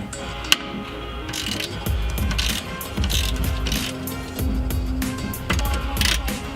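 Ratchet working a 15mm bolt on an E30's power steering rack, with repeated bursts of mechanical clicking and grinding at close range, separated by brief pauses.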